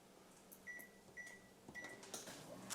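A microwave oven heating a meatless burger gives three short high beeps as it is set, followed by clicks and a door or button clunk, all faint and close by in a quiet kitchen.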